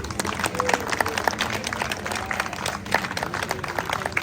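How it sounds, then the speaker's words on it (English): Guests at a cricket association banquet dinner applaud together, a steady wash of clapping with crowd murmur underneath, moderately loud throughout. "big round of applause for Aisha Ji for awesome food."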